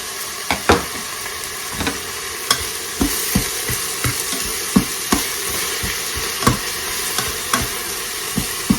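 Onions frying and being stirred in a Cosori 5.7 litre pressure cooker for beef stew: a steady sizzle broken by regular knocks and scrapes of a utensil against the pot.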